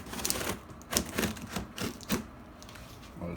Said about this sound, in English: we'll grab the scissors and cut this out.